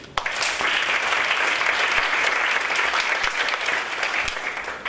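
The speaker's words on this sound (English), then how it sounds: "applause for them here too" Dinner guests at the 2016 ISQOLS awards and closing ceremony applaud Professors Carol Graham and Wolfgang Glatzer, steady crowd clapping that starts sharply and holds at a moderate level throughout.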